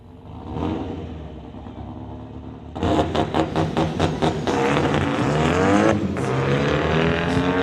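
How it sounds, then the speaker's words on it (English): Drag racing cars launching at Mission Raceway, a Volkswagen Beetle among them: a low idle rumble suddenly erupts into a loud, roaring engine surge with pulsing revs that builds and holds to the end. "Both drivers off and away."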